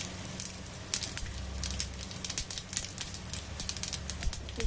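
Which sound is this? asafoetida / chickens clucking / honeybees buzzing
asafoetida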